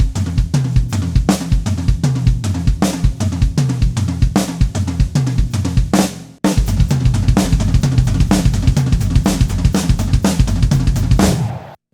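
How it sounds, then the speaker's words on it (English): Two continuous passages of full drum-kit playing, the left hand held on a rack tom while the right moves between snare and other toms in a fill, loud and close with dense rhythmic hits, a brief break near the middle and no talking. "keep the left hand on a rack tom and move the right hand between the snare and your other toms"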